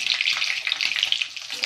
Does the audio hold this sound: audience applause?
no